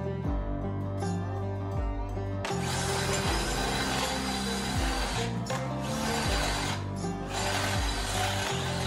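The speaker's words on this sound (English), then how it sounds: "let's try and drill on a really thick round piece of tubing" A power drill bores through a thick round piece of metal tubing for a lowrider build, a steady grinding, rumbling whir with shifting pitch that runs continuously and loudly throughout, close by, with no talk.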